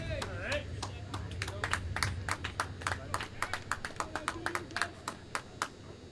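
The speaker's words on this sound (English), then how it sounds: "Crowd getting into it." At a Charlottesville Tom Sox versus Harrisonburg Turks summer-league baseball game, the crowd claps in a steady rhythmic beat, sharp and fairly close, building in unison under an announcer talking.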